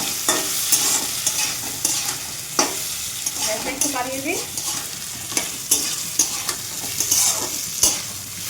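Rice and potatoes frying together in a pan, a constant close sizzle broken by regular scraping and clattering stirs; a voice speaks briefly once midway.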